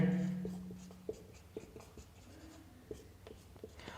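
Chalk or marker writing on a board during a maths lesson, faint scattered taps and short strokes in an uneven rhythm, with a brief low hum at the start.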